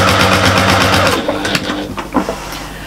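A sewing machine runs steadily while stitching the straight side of a small fabric bag onto its curved gusset, its rapid needle rhythm loud and close, then slowing and breaking into a few shorter bursts toward the end.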